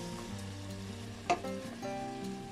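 Meat fries in a pan with a steady, close sizzle and occasional stirring scrapes, one brief louder clatter in the middle, and no voices.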